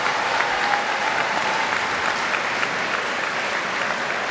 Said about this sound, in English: So round of applause for everybody